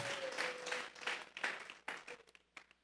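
Church congregation applauding during a Sunday service, a moderate burst of clapping that swells and then thins out into scattered claps.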